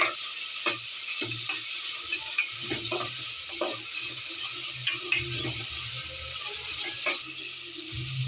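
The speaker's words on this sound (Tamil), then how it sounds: "தக்காளி நல்லா வதங்கட்டும்." Onion and tomato sautéing in a hot pan: steady sizzling and hissing with occasional stirring clinks and scrapes, close up and continuous, no voices.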